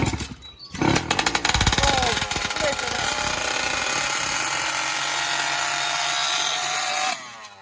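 The petrol engine of a giant RC car is pull-started and catches with a sudden loud, rattling roar. It runs harshly and steadily up close for about six seconds, then cuts out abruptly.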